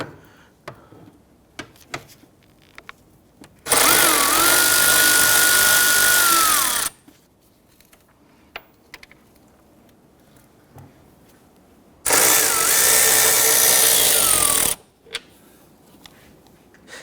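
A power tool loosens and removes 10mm bolts on a 2017-2020 Hyundai Elantra 2.0L, running in two loud sustained whirring bursts of about three seconds each with a rising pitch at the start, separated by quiet clinks and handling.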